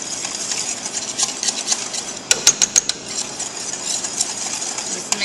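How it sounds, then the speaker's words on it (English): A spoon stirs a small cinnamon and vanilla mixture in a bowl, a soft steady scraping with a quick cluster of clinks in the middle, close and quiet. "Just mix it up."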